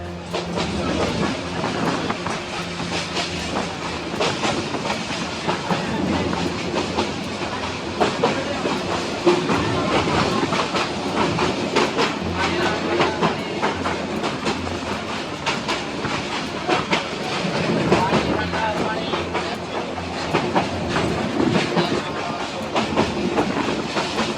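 A Kishoreganj Express train rolls steadily along the rails on the Bhairab–Kishoreganj section in Bangladesh, a continuous rumbling clatter with rhythmic clicks of wheels, heard from inside, loud and unbroken throughout.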